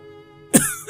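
A single short, harsh cough bursts out close by after a moment of quiet humming tone, with a brief breathy trail.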